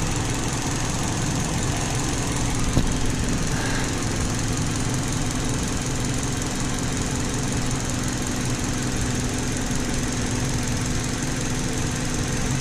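A Hyundai i30 2.0L engine running rich with a stuck-open purge valve, a steady close idling drone with constant vibration and no variation throughout.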